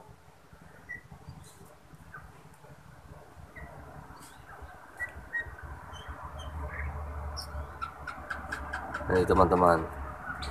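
An oriental magpie-robin (kacer) sunning in its cage gives short, scattered chirps and whistles with a louder burst of calls near the end, while someone speaks briefly over the birdsong.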